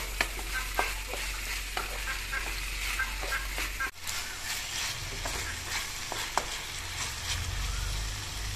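Chicken pieces and onion frying in hot oil with spices while being stirred for a chicken curry with sesame seeds, a steady loud sizzle with frequent scraping stirs throughout, one brief break in the middle.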